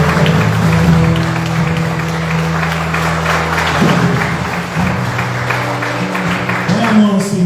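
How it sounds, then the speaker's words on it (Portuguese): Church congregation clapping at a pastor's anniversary service, steady moderate applause mixed with voices and a sustained musical tone underneath throughout. "Você pode aplaudir o Senhor?"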